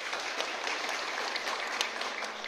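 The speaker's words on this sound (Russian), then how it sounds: "Чуть больше аплодисментов игроку номер один." An audience claps for a player at a negotiation-game training session for realtors in Kaliningrad, with steady, dense applause throughout and no voices.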